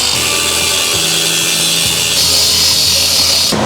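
A power tool saws through a truck exhaust pipe on a 1000HP 6.0L Powerstroke, a steady loud grinding whine running continuously close by, rising in pitch partway through before cutting off at the end.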